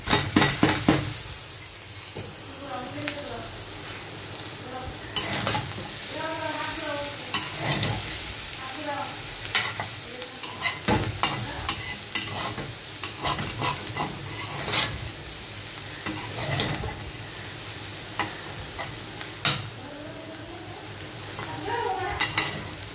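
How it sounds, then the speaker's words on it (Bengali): A vegetable bhaji fries in a pan with a constant sizzle while a spatula repeatedly scrapes and knocks against the metal, close and fairly loud, with no talking. "আর 2 থেকে 3 মিনিট ভাজা করলেই আমার ভাজিটা হয়ে যাবে।"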